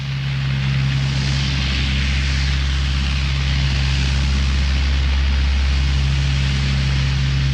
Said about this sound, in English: As the giant Hercules lumbers down the runway for takeoff